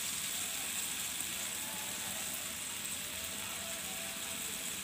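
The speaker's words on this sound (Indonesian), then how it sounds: "Kita perbesar apinya biar blis blekutuk-blekutuk" Steady, dense sizzling of spotted dove frying in oyster sauce over high heat, a continuous bright crackle with no pauses, close and fairly loud.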